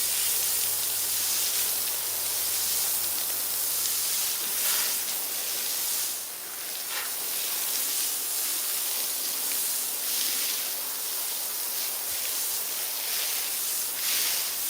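Water sprays steadily from a hose while a mini horse is bathed, producing a continuous hiss close to the microphone with slight shifts as the stream moves across the coat.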